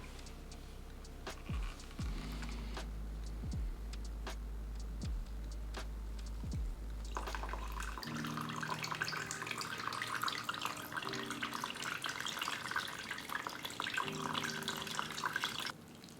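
Water runs steadily from a tap to flush a potted plant's soil, a soft continuous rush that changes character midway into a brighter splashing flow, with a few light knocks early on.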